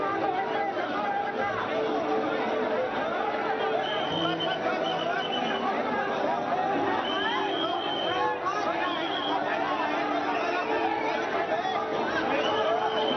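A large crowd of party workers gathers outside a hospital in Baramati, a dense, steady murmur of many voices chattering and calling, continuous and fairly distant with no single speaker standing out.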